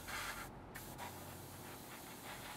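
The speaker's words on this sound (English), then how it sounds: "So I'm just quickly spraying this" A steady hiss of spray paint from an aerosol can onto a 1/48 scale BAe Hawk T1 model kit, close by, with one brief break before the spraying resumes.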